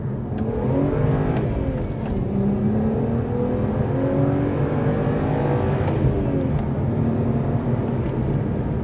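BMW 1M engine revving hard as the car accelerates up through a couple of gears, loud and steady from inside, with rising pitch sweeps and brief dips at each shift, no talk.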